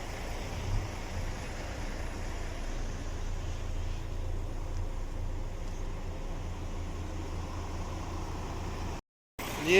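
A truck engine idles steadily at a roadside workshop after repair work, a low continuous rumble under faint background noise, even and unchanging, before a short dropout and a final bump at the end.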